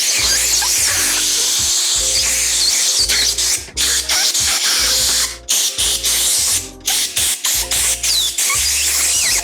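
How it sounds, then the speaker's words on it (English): An air compressor blows grips onto a pro scooter handlebar, a loud close hissing blast of air that cuts in and out in repeated bursts with brief gaps, no talking. "now the air compressor will do all the heavy lifting"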